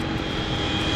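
An airplane passes overhead, its steady, loud engine roar filling the whole moment without a break.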